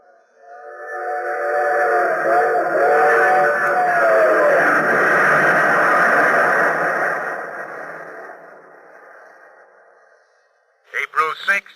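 Train sound effect in a 1940s radio spy drama, a steady rumbling passage with whistle-like tones that swells, holds for several seconds and fades, followed by a brief burst of talk.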